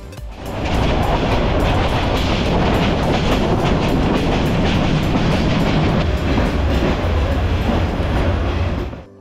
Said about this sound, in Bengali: সকালবেলার পারাবত এক্সপ্রেস ট্রেনে সিলেটের উদ্দেশ্যে যাত্রা শুরু করলাম।